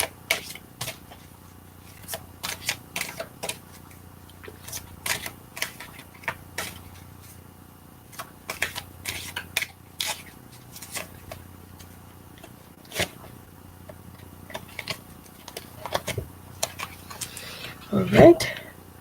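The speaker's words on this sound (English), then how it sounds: "I have to keep shuffling." Tarot cards being shuffled by hand, a close, irregular run of soft flicking and riffling clicks that continues steadily, with a voice occasionally speaking.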